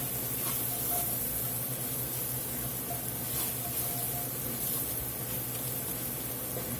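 Green beans stirred with a couple of teaspoons of tomato paste cook in a pan over low heat, giving a steady, close sizzling hiss that runs on evenly without a break.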